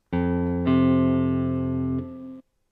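A guitar sounds two down-picked notes from a song's intro, each ringing clearly and sustaining before cutting off; bright, close and unaccompanied.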